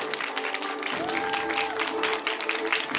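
An audience at a gala performance claps in a steady, lively patter as performers are welcomed on stage, with a tonal sound briefly rising under the applause.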